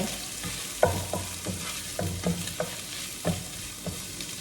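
Large pieces of pork being stir-fried with sea morning glory in a wok, a steady sizzle broken by regular scraping and clinking strokes of the spatula, close and without talk.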